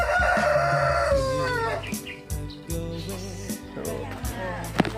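A purebred Rhode Island rooster crows loudly and close by on a farm, one long cock-a-doodle-doo followed by scattered clucks and other birds, with a person's voice faintly in the background.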